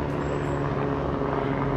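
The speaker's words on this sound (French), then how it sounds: "on a un hélicoptère qui passe au-dessus" A helicopter passes overhead during an indoor teaching session, a steady loud rotor and engine drone that fills the whole moment without breaks.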